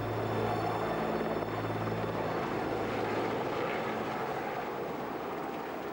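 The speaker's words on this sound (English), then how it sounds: "An RAF helicopter helped rescue a 3-year-old baby" An RAF rescue helicopter flies over flooded Carlisle in January 2005, its steady rotor and engine roar loud and continuous throughout, with low throbbing blade tones and no talk.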